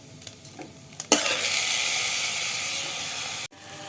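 Snake gourd drops into a pan of roasted coconut and bursts into a loud, steady stir-fry sizzle after a few light clinks, holding close and continuous until a brief cut near the end.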